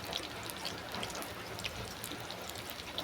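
Liquid trickling and splashing into a bowl of water where fish pieces will soak, a steady close wet pouring wash with faint drips, no voices.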